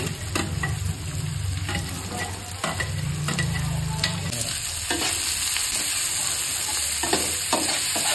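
Carrots, French beans and peas being stir-fried in a pan for homemade fried rice, a steady close sizzle with repeated scraping stirs running throughout and no talk.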